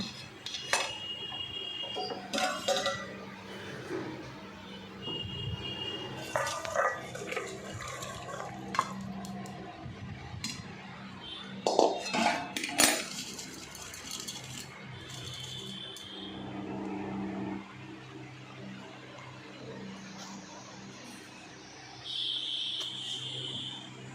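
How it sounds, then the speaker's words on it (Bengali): Bengali fish curry is poured out of a cooking pot among scattered metallic clinks, scrapes and stirring knocks of utensils and dishes, close and intermittent, with no one speaking. "এইবার আমি মাছের ঝোলটা ঢেলে নেব"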